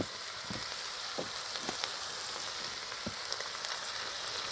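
Homemade sausage with onion, cherry tomatoes and peppers frying on a plow-disc griddle, a steady close hiss of sizzling fat broken by occasional sharp pops and crackles, with no talking.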